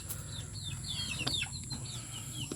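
Backyard chickens recovering from illness cluck and chirp softly at close range over steady low farmyard noise, with a few brief higher calls scattered through.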